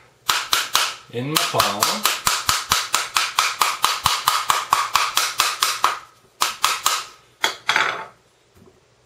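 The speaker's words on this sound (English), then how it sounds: "all you do is start hitting the pomegranate" A spoon raps rapidly on a pomegranate half held in the palm to knock out the seeds, over twenty sharp, close, evenly paced smacks with a brief pause near the end, while a person speaks briefly.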